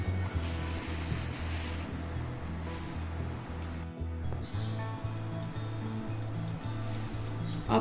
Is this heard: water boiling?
yes